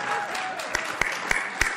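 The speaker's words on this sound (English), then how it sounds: "You can clap." An audience at a security conference talk claps briefly. Steady, close clapping runs throughout, with a few sharper individual claps standing out.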